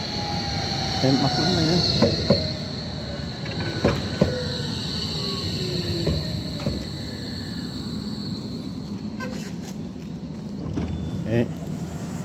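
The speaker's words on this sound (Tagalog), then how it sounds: "Ayan na, parating na yung train." Commuter train pulls into a station with wheels squealing and a rumbling roll past the platform, loud and close, as people speak briefly nearby.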